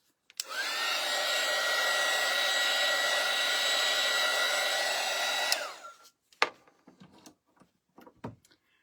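A hair dryer blows on a craft piece for about five seconds, a loud steady close whoosh that starts and stops abruptly, followed by a few soft clicks and handling noises.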